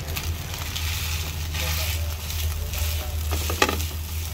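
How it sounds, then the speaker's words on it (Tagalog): Leftover rice stirred and tossed in a frying pan still greasy from cooking pork bistek, a constant sizzle broken by scraping, rustling stirs and one sharp clack of the utensil. "Ilagay nyo lang po yung bahaw nyo."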